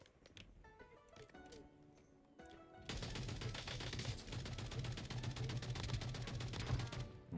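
Rapid gunfire in the video game Warzone, a dense burst of shots starting after scattered clicks and continuing steadily at moderate level.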